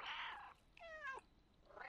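Cat meows from the video game Stray: a noisy, breathy cry at the start, then a clear tonal meow with stacked harmonics in the middle, and another starting at the end, quiet and close.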